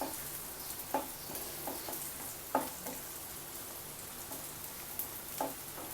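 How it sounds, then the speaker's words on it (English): Onion and red chilies frying in a little oil: a quiet, steady sizzle broken by scattered crackles and pops, with no voices. "put the onion to fry and also the red chilies"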